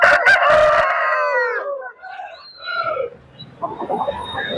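A rooster crows loudly and close by at a busy poultry market, one long harmonic call, followed by clucks and other fowl noises and some background chatter.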